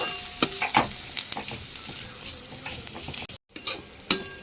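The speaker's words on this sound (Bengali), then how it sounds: "পেঁয়াজ দিয়ে ভেজে নিচ্ছি নুন হলুদ সব দিয়ে একবারে ভেজে নিচ্ছি" Vegetable peels with onion, salt and turmeric sizzle and crackle in a hot pan, with occasional scrapes and clinks of stirring, close by.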